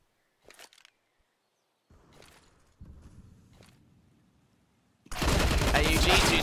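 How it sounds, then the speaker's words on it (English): Counter-Strike match on the Inferno map: a few scattered footsteps and short bursts give way to a sudden, loud, sustained spray of rifle fire at the end, with the game's ambience in between. "AUG 2 sprays up, trade back from Viva"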